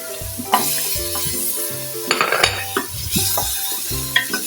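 Tomatoes sautéing in a pan while cooking pork belly sinigang, a steady close sizzle with repeated metallic spatula scrapes and clinks against the pan, no voices.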